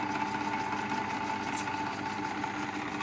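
A small bench drill press motor, a Majster model with aluminium pulleys and the belt guard open, runs steadily with a constant mid-pitched hum and slight vibration, close and unchanging for the whole stretch.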